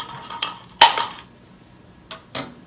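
A plastic lab tube cap snapped back onto its tube during DNA sample preparation, a sharp close click with a few lighter clicks of handling around it; no talking.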